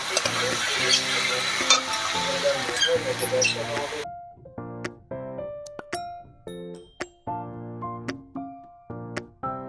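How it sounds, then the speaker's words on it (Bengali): For a potato curry, masala is stir-fried on low heat in a pan with a busy sizzle and scraping for about four seconds, then the frying cuts out, leaving only light melodic background music. "মশলাটাকে ভালো করে কষতে দেবো এবার কম আঁচ করে কষবো যাতে মশলাটা পুড়ে না যায়"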